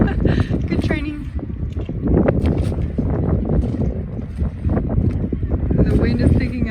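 Strong wind blowing outdoors by the sea on Gran Canaria, a steady, loud rumbling buffet against the microphone throughout, with voices talking underneath.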